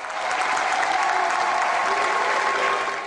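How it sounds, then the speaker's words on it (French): A congregation of worshippers applauds as they rise to their feet, a dense, steady wash of clapping that holds at an even level for about three seconds with no voices above it. "Les fidèles applaudissent et se lèvent."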